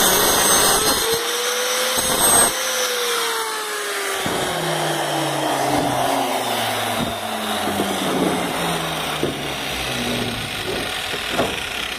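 A power tool cuts a roof tile during roof construction, a steady loud grinding whine with the pitch sliding downward as the blade bogs into the tile, close and continuous.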